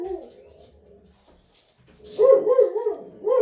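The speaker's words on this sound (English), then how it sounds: "Crazy dogs." Several excited dogs bark indoors near the door, a loud burst of overlapping yaps and barks after a quieter stretch.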